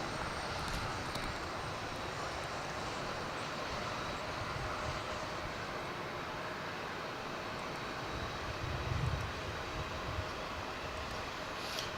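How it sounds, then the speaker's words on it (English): American Airlines aircraft at DFW International Airport, a steady, broad jet roar filling the whole stretch with a slight swell near the end, heard from a distance with no talk. "by now we know that's an American Airlines aircraft"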